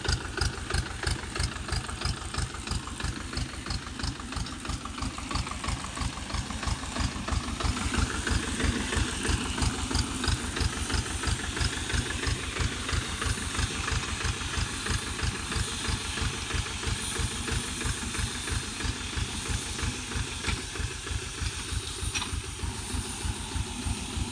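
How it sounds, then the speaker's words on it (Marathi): A tractor engine chugs steadily at close range while running a crop sprayer with two spray guns, a rhythmic low thumping with a droning hum and no voices throughout. "दोन गन समोर ट्रॅक्टर चालतं आहे"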